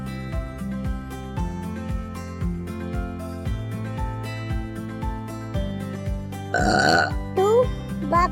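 A person burps loudly once or twice near the end, over steady background music, with a short spoken word alongside.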